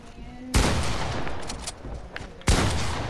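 Gunfire in the video game Fortnite, played splitscreen: two sharp, loud bursts of shots, the first about half a second in and the second near the end, with a sustained noisy roar between them.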